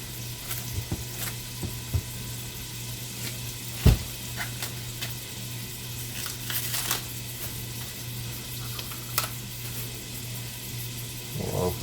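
Garlic sizzles steadily in a frying pan, a continuous close crackle with a low hum beneath and occasional scrapes and clinks of stirring.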